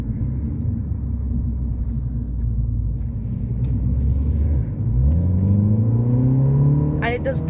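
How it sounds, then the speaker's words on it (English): A 2020 Mini Cooper S Convertible in sport mode gives a loud, steady engine and exhaust rumble from inside the car. Partway through, the pitch rises as the car accelerates. "you can hear the engine and the exhaust, which sounds really nice"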